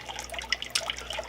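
Water trickles and drips into fish room drainage through holes in PVC pipe, a thin, uneven run of small splashes and drops heard close up and alone.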